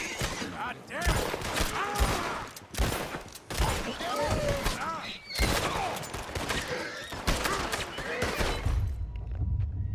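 Rapid gunfire in Red Dead Redemption 2, sharp repeated shots in bursts across a busy shootout with voices talking over it, the fire stopping near the end.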